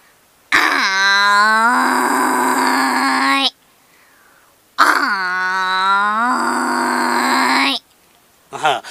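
A woman, a performer known for imitating dozens of animal and bird calls, mimics a buffalo's call with two long, loud, drawn-out groaning lows, close to the microphone, separated by a short silence.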